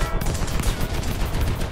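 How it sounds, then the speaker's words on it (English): Rapid tank gunfire in the video game War Thunder, a dense, continuous volley of loud shots and impacts rolling on without pause, with no talking. "He is shooting me!"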